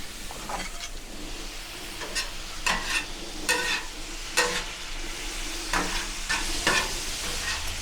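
A patty melt cooks on a Pit Boss Ultimate plancha, giving a continuous broad sizzle with sharper scraping and spatula clicks at intervals, close and moderately loud.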